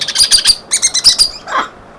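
Young sun conure parrot chicks give a quick series of shrill, squeaky chirps up close, in two rapid bursts followed by a rougher squawk.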